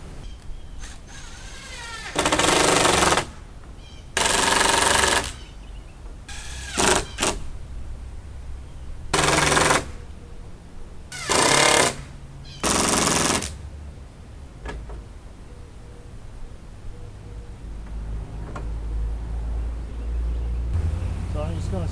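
Screws are driven by a power driver to fix wooden pickets onto a large 12-foot DIY privacy fence gate: five short, loud whirring bursts, each a second or less, separated by quiet pauses with faint handling noise.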